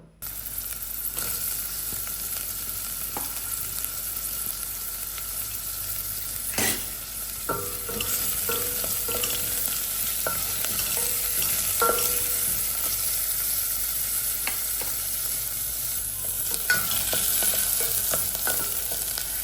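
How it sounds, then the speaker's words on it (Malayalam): Onions sautéing in hot coconut oil in a pan, a steady close sizzle with repeated scraping and stirring knocks of a spoon over about twenty seconds, no voices. "വെളിച്ചെണ്ണ ഒഴിച്ച് ചൂടാകുമ്പോൾ നമുക്ക് ഈ സവാള ഇട്ട് വഴറ്റി കൊടുക്കാം"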